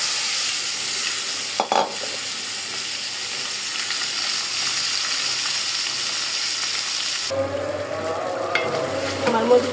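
Spiced chicken meat sizzles and fries in a pan with onion, cardamom, cinnamon and bay leaf, a steady close crackle throughout, growing busier and louder near the end as more goes in.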